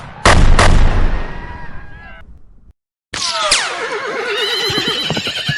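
Horses whinny amid gunfire in a western, opening with two sharp loud shots followed by shrill neighing, a brief silence, then more high, wavering horse cries over continued shooting and commotion.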